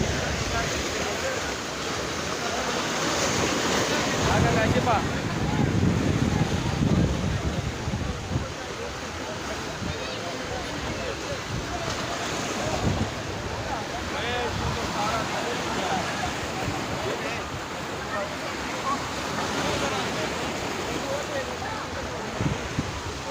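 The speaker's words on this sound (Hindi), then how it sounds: "ये मुबारक वैली का समंदर है।" Sea waves wash steadily onto the shore at Mubarak Village on the Karachi coast, a continuous roar mixed with wind buffeting the microphone, with voices present in the background.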